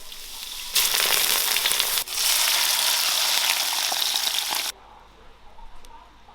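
Dried chilies and Sichuan peppercorns drop into hot oil and sizzle loudly and steadily for about four seconds, with a brief dip midway, then the hiss cuts off sharply into quiet.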